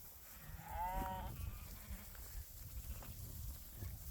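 Rams in a pen, with one clear wavering bleat near the start over low shuffling and rustling of the flock, fairly close and otherwise quiet, no talk.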